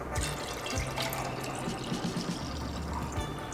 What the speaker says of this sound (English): we can pour it into our bottle